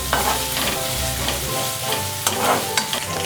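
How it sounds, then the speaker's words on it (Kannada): Ten to twelve green chillies frying in a pan for donne biryani, with a steady close sizzle of hot oil and occasional scrapes and clinks as a spoon stirs them. "ಒಂದು 10ರಿಂದ 12 ಮೆಣಸಿನ್ಕಾಯಿ ಹಾಕ್ಕೊಂಡು ಹುರ್ಕೋತಾ ಇದ್ದೀನಿ"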